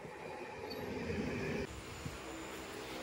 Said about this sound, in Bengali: বেশ অনেকটাই দেরি করে আমাদের ট্রেন এসে পৌঁছালো নবরায়নগর রেল স্টেশনে